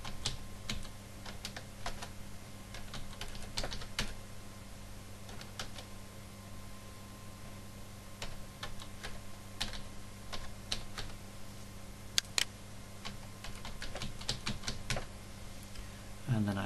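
Fingers tap out an email address and password on a computer keyboard in a quiet room, producing irregular runs of light clicking keystrokes with brief pauses between bursts and a faint steady background hum.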